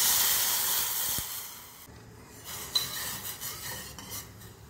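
Roasted vermicelli being stirred into milk in a pan, soft scraping and rubbing with a hissing simmer, fairly close and quiet, with no talk.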